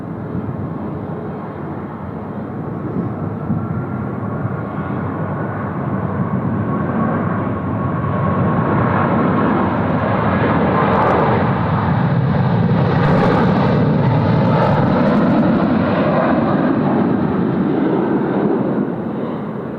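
An American Airlines jet, flight 72 bound for Los Angeles, takes off from Sydney Airport on a long roll, its engine roar building into a broad, sustained rumble that swells and holds at a distance.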